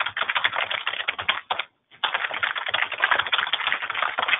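Rapid typing on a computer keyboard, dense clicking keystrokes that pause briefly partway through and then resume, close and steady.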